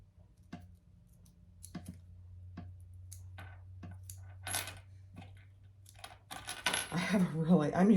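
A noisy metal zipper pull on number 5 zipper tape jingles and clicks in scattered light taps while a canvas clutch wallet is sewn, close and fairly soft, with brief bits of voice near the end.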